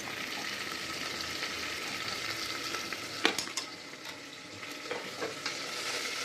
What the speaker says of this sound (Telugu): ఆయిల్ హీట్ అయిన తర్వాత ఈ వెజిటేబుల్స్ అన్నీ 1 బై 1 వేసి దీన్ని బాగా ఉడికించాలి